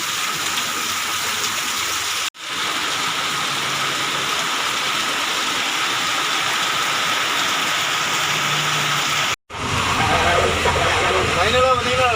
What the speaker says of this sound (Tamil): நல்ல மழை பெஞ்சிட்டே இருக்குது